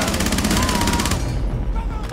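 Video game gunfire sounds as a rapid burst of shots for about a second before cutting off, loud and close, with excited voices over the top.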